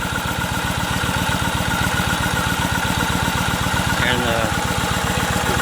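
A Kawasaki Vulcan 1500 motorcycle idles with its choke pushed in, giving off a steady, even pulse of low thumps close by, and a voice speaks briefly over it.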